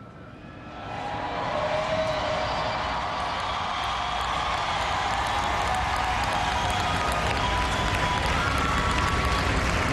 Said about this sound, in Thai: เสียงปรบมือดังกึกก้องจริงๆจนเขาต้องขอร้องผู้คนในฮอลล์ค่ะ